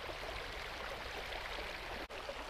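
Creek water flows steadily, a continuous broadband rush and babble close by, with no talking over it and only a momentary dip near the end.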